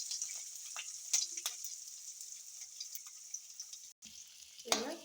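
Onions sizzle in hot oil with cumin seeds and chillies for jeera rice, a steady close frying hiss broken by a few spoon clinks and a louder stir near the end.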